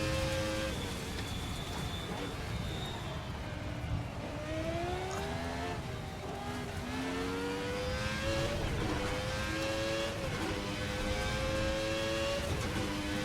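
A high-revving 1990 Formula 1 V10 engine in the Assetto Corsa racing game screams through rising and falling gear changes near 300 km/h, its pitch climbing and dropping repeatedly, with faint talk underneath.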